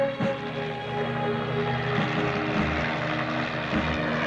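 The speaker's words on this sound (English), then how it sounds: "We have a copter coming in." Helicopter approaching on a mountain search, a steady mechanical engine drone with low rhythmic rotor thumps, moderately loud and continuous throughout.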